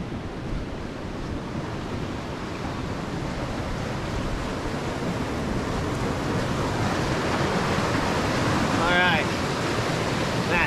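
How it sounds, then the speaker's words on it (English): Rushing creek water at a backcountry campsite near Fording River Pass, a steady, loud broadband roar of flowing water lasting throughout with no pauses, with a faint whistling tone near the end. "It's actually noisy. The Baril Creek is flowing really good."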